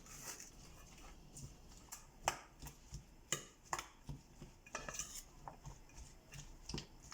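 Leek quiche filling being mixed in a bowl: quick repeated clinks and scrapes of a utensil against the dish, in an uneven close-up rhythm with no voices.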